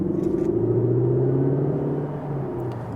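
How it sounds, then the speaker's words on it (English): Synthetic engine note piped through a Cupra Formentor plug-in hybrid SUV, a steady low droning hum with a faint harmonic tone rising slightly under light throttle, heard from inside the cabin. "I do like that engine note. I know it's fake"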